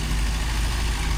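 A vintage Morris County commercial vehicle with a flathead engine idling at an outdoor steam rally, a steady, close, low-pitched rumble with no talk.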